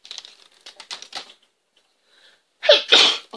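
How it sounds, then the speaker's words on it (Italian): A woman sneezes once, loud and close, after a stretch of soft tapping and rustling noises. "Scappano starnuto."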